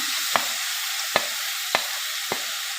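Grated carrots roast in a pan with a steady soft sizzle, broken by four sharp scraping strokes of stirring spaced about half a second apart.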